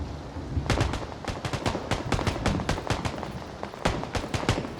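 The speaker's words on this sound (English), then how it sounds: "Got a gunshot." Rapid gunfire in the online battle royale game PUBG, a dense burst of sharp cracks from several shooters, some overlapping like automatic fire, others spaced single shots, loud and sustained throughout.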